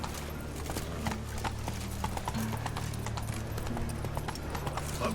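Roach, a horse in The Witcher 3, trotting with a steady rhythmic clip-clop of hooves on the ground, moderately close, over a low ambient game backdrop.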